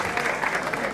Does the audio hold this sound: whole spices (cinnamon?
no